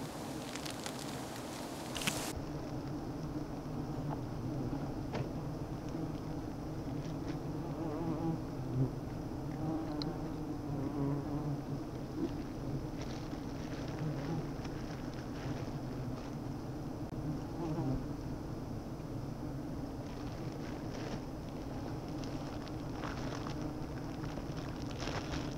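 Giant honey bees buzzing around their nest on a cassava plant, a low, steady, continuous drone heard up close, with a sharp brief noise at the start and no talking.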